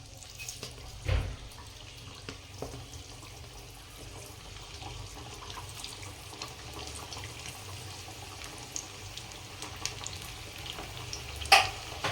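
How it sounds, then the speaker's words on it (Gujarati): Vadas deep-frying in hot oil give a faint, steady sizzle and bubbling throughout, with a soft thud near the start and a brief clink toward the end. "જો આપણું તેલ આવી ગયું હવે ચલો વડા તરવા માટે"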